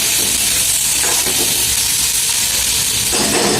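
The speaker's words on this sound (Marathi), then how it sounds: "लसूण, कांदा, टोमॅटो फ्राय करायला मी टाकले आहे" Garlic, onion and tomato frying in a hot pan give a loud, continuous steamy sizzle and hiss, close up and unbroken throughout, with no voices.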